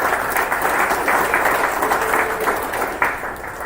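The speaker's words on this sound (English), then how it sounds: "Huge round of applause." Steady crowd applause fills a racetrack drivers' meeting at Road Atlanta, a dense, sustained clapping from many hands at moderate distance that carries on without break and tails off slightly at the end.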